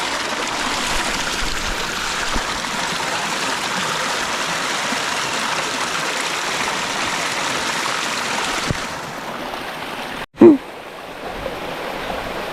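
Cold mountain stream water rushes over rocks in a steady, close hiss that fills the scene, dropping briefly near the end with a sharp knock before the flow resumes.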